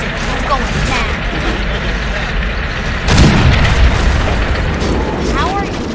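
Booming explosions in the war game Men of War: Assault Squad, a loud heavy blast landing midway over a constant dense roar of battle noise, close and full, with no clear separate impacts before or after.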